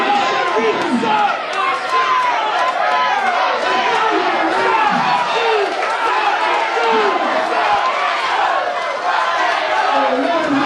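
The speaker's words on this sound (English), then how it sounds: "Ladies and gentlemen, this crowd is irate at Jimmy Love." Irate wrestling crowd jeering at heel Jimmy Love in an arena, a loud, continuous roar of booing, shouting and chatter that fills the whole stretch without letup.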